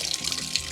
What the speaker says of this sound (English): Cool mountain water. It's so fresh.